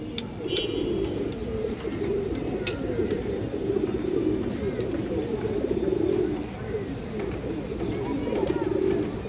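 A pair of silver-necked pigeons coo continuously in low, throaty, overlapping rolls, close and steady throughout, with faint chirps above.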